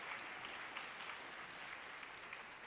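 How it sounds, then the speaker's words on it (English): Faint, distant applause from a church congregation, an even patter of many hands clapping that lasts the whole stretch without a break. "we can clap for Tony"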